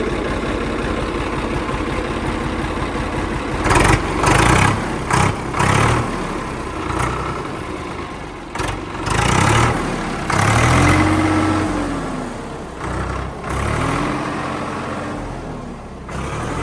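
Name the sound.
Swaraj 855 tractor engine running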